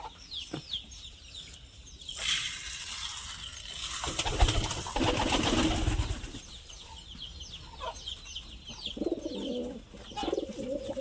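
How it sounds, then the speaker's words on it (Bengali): Fancy pigeons, including two males, coo repeatedly in low, throaty bursts while being fed paddy, with chirping birds and a stretch of fluttering wings in the middle; no one speaks. "দুটা নর কবুতর খানা টানা কম খায় সারাদিন ডাকাডাকি করে"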